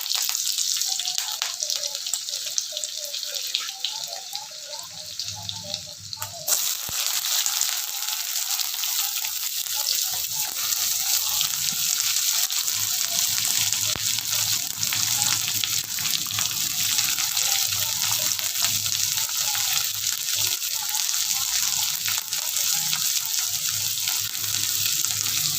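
Onion dropped into hot oil with garlic and curry leaves, a sudden jump into loud, steady sizzling and crackling hiss that holds for the rest of the clip, after quieter frying before it.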